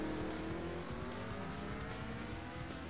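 A race car at a DuPont World Series of Racing round in Canada sliding through corners, its engine roaring steadily with a faint edge of tire squeal throughout, loud and constant.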